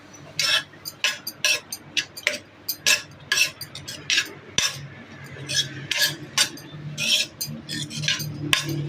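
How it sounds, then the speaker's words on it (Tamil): Grated coconut is roasted in ghee in a metal kadai, with a spoon stirring and scraping against the pan in repeated, rhythmic metallic clinks and scrapes, close and steady with no talking. "இந்த கடாயில் நெய்யும் ஊற்றி ஒரு தேங்காய் திருவி வச்சுருக்கிறேன் இதை போட்டு வறுத்து எடுக்க போகிறேன்"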